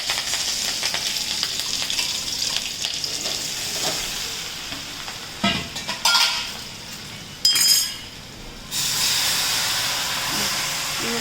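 Steady loud sizzling and hissing throughout, with a couple of sharp bursts as sugar water hits hot oil tempered with mustard seeds, cumin and chillies, then the hiss swells and continues; no talking.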